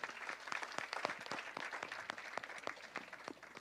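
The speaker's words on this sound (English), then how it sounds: "Everybody, one more round of applause for all our speakers so far." An audience at a Jain scholars academic event claps for its speakers, the individual claps distinct within a fairly quiet, brisk applause lasting a few seconds.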